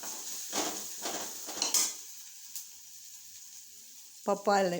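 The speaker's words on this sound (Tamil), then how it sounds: "எண்ணெயில் எதுக்கு வத்தல் பொடி போடுறேன்னா கலர் கொஞ்சம் தூக்கலாக காட்டும்." Red chili powder sizzles in hot oil with a few soft bursts of frying hiss, then a quiet pause and a brief clink of a utensil at the end.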